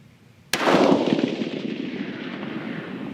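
A single sharp rifle shot fired with a 43.0 grain powder charge outdoors at a target, a sudden loud crack followed by a long rolling echo that fades slowly.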